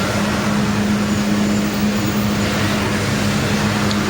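Heavy rain drums on a car moving through a downpour, a dense, steady roar with a low hum underneath, close and continuous with no talking.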